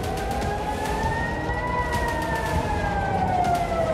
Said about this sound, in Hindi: ये इजराइल के तेल अवीव से आई तस्वीरें हैं जहां सायरन गूंज रहे हैं और अफरा तफरी का माहौल है।